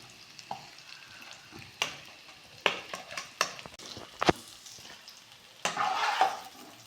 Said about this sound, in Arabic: نخليه يتقلى مليح ياخذ اللون الذهبي النحو